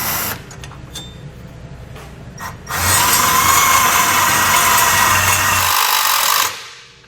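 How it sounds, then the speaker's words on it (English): A power tool with a 1/4-inch socket drives a self-tapping screw into a bumper beam, a short burst then a loud, steady whir of about four seconds that cuts off abruptly, with light clicks and handling before. "you'll use a 1/4-inch socket to run down the included self-tapping screw"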